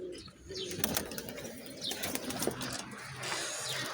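Pigeons flap their wings and coo outdoors in strong wind. Short wingbeat bursts and soft calls are fairly faint against gusty background noise, and no one speaks.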